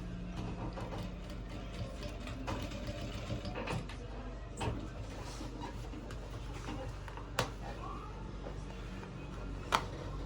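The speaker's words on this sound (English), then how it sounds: "So I will top stitch it just there." A sewing machine runs steadily while top stitching a shirt chest pocket, a continuous mechanical whir with faint ticking and a couple of sharp clicks.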